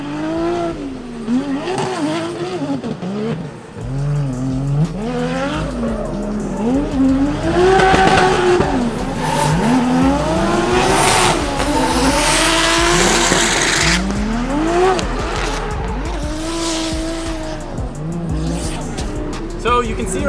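A BMW E36 race car coming off track, its engine revving and wavering in an unsteady oscillation, loud and close, with tire noise and talking over the mechanical sound for much of the run.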